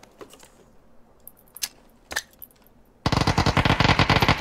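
PUBG gunfire. Scattered distant shots and cracks come first, then a loud, rapid burst of automatic fire in quick rhythmic repeats at the end.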